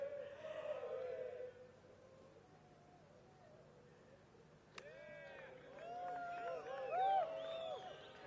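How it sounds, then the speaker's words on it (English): Spectators at an early-morning golf practice range cheer and call out as practice chips and iron shots are struck; a faint crowd murmur, then a sharp hit followed by rising distant cheers and voices. "Even cheering the practice shots now, the chips and the iron shots."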